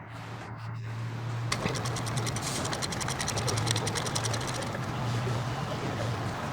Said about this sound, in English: Using the large ratcheting wrench with the large 13mm deep socket